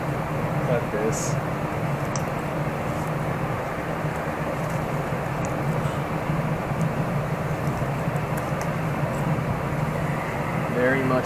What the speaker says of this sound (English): Sorry about the noise. I have some exhaust fans going.